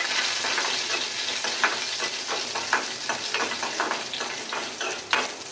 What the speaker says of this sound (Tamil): கொஞ்சம் உளுத்தம்பருப்பு, கொஞ்சம் கடலைப்பருப்பு இதை சேர்த்து நல்லா கொஞ்சம் பொரிச்சுக்கலாம்